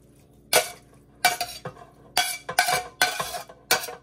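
Sautéed vegetables are stirred into beans in a pot in a hotel room, with about seven distinct scraping, clattering spoon strokes against the pot separated by short quiet pauses.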